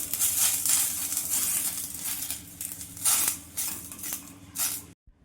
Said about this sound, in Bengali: আমি কড়াই গরম করে কলা পাতাগুলো একটু সেঁকে নিচ্ছি, তাহলে নরম হয়ে যাবে